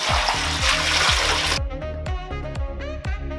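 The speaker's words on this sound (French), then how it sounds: "je prends mon poisson, hop, et je remplis d'eau froide à rabord" Cold water running into a bowl to rinse fish, a loud close rush of tap water that cuts off partway, followed by light splashing and trickling.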